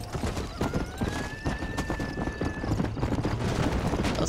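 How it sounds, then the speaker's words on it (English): Hooves clip-clop in a steady, close galloping rhythm as a horse runs in the video game Red Dead Redemption. The hoofbeats carry on without pause from start to finish. "Okay, I guess I'm taking my own horse."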